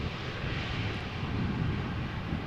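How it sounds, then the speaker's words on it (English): Transavia Boeing 737 landing at Amsterdam Schiphol with light reverse thrust applied, a steady, broad jet roar with deep rumble held throughout, moderately distant and without talk. "Transavia 737. with a little bit of reverse thrust being applied,"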